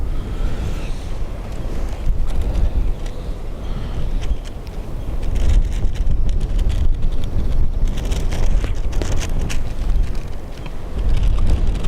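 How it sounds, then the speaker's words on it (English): Breeze buffeting an outdoor microphone at Dublin Airport, a continuous rough rumble that surges and eases in gusts over about twelve seconds, with no voices. "The breeze has picked up. It's not affecting the microphone too much, is it?"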